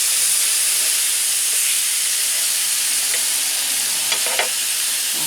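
Aubergines sizzle loudly and continuously on a mini plancha, a dense even hiss filling the whole stretch with a few faint pops near the end.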